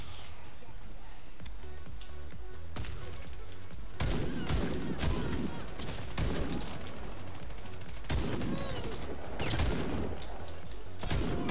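Rapid bursts of gunfire from the online shooter Warface ring out repeatedly, loud and close, with heavy booming volleys clustered through a dense, continuous game soundscape.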